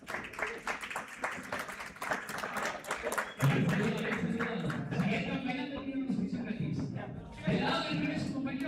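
Spectators clap for players being announced at the men's seventh-category final of a padel tournament in Río Gallegos, Patagonia: brisk, close clapping at first, then an announcer's voice carries over continuing applause.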